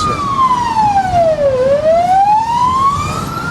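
A loud emergency vehicle siren wails close by on a city road in Chernivtsi, its pitch sweeping down and then back up in a single long cycle over traffic noise.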